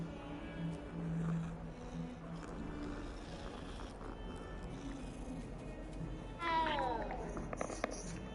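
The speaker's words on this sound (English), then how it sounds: "That is a cat." A cat in the video game Hogwarts Legacy gives a short meow early on and a rising, wavering meow near the end, with game ambience throughout.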